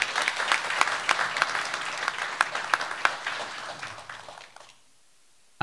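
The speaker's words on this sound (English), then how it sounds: "giving them a round of applause" A crowd at a commission hearing applauds warmly, many hands clapping at once, then the clapping thins and fades out into near silence.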